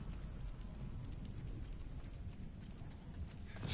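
A horse gallops in the Diablo 4 video game, a fast steady drumming of hooves running close and continuous under a low rumbling game backdrop.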